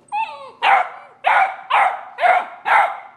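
A seven-week-old red and white European basset hound puppy gives a whiny yelp and then five loud, close barks in a steady, evenly spaced rhythm.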